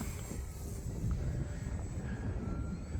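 An E-flite Extra 300 RC airplane flies overhead with a steady, faint whine mixed with wind rumble, holding an even tone throughout.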